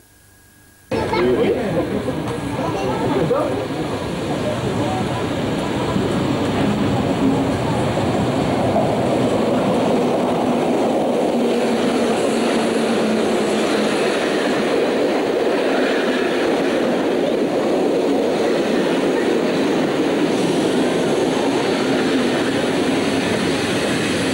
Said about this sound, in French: Ce train qui rentre en gare